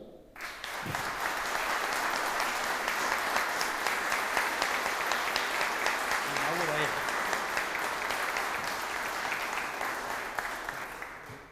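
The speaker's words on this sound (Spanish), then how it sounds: "les pido un fuerte aplauso" Audience applause at the opening of a Malvinas 40th-anniversary exhibition honouring war veterans: steady, dense clapping from a large crowd, sustained at an even level for about eleven seconds before tapering off, with a brief murmur of voices partway through.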